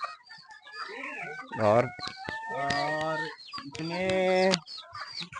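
Sonali and pure desi chickens cluck and call on a small village farm, with several loud, close squawks in overlapping bursts. A voice is briefly heard.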